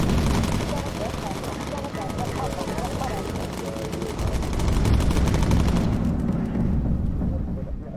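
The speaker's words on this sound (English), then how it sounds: "Crossman, focus fire with incendiary." Machine gun fire in the bomber game Bomber Crew: dense, continuous rattling bursts fill the whole stretch with a heavy low rumble, loud and unbroken, while a voice talks over the gunfire.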